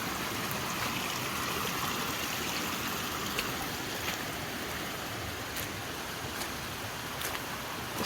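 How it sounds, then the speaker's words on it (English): Rainwater runs off the mountain down a flooded Appalachian Trail path as a steady, moderately quiet gurgling stream, with a few faint clicks and splashes and no voices. "It's just a flowing stream."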